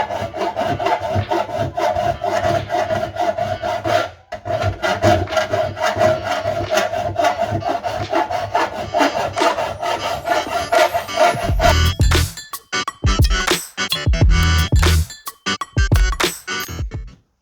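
A metal rasp scrapes and files lead filler on an air cleaner in a repair workshop. Continuous rhythmic strokes grate steadily, then break into shorter, choppier scrapes near the end, with no talking.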